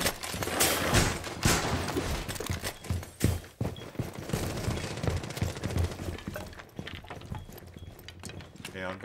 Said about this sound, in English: I did hear gunfire this way